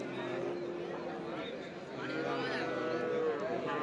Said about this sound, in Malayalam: ചെറിയ മൂരിക്കുട്ടികളൊക്കെ ഇതാ ഇവിടെ നിൽക്കുന്നുണ്ട്